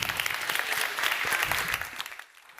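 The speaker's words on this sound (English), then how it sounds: "Round of applause." A conference audience claps in a short burst of applause that is dense at first and then tapers off quickly into quiet.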